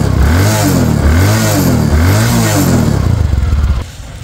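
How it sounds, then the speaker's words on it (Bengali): A Bajaj Discover 110cc motorcycle engine runs steadily and loud at close range, its note rising and falling in repeated revs before cutting off abruptly near the end. "দেখেন বাইকটা স্টার্ট করা হবে। দেখেন খুবই স্মুথলি সাউন্ড আছে বাইকটা"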